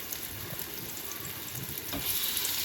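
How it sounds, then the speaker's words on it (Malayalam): Pieces of pomfret fish fry in hot oil in a pan, giving a continuous close sizzle that swells louder toward the end. "ഫ്രൈ ചെയ്യാൻ പാത്രം വെച്ച് എണ്ണ ഒഴിച്ച് ചൂടായി ഓരോന്നായിട്ട് നമുക്ക് അതിലേക്ക് ഇട്ട് ഫ്രൈ ചെയ്തെടുക്കാം"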